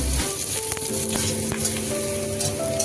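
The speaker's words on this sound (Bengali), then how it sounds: "গাজরটা এগুলোকে আমি হালকা ফ্রাই করে নেব" Carrots and other vegetables lightly frying in oil, a strong close sizzle with a few utensil knocks and scrapes over nearly three seconds.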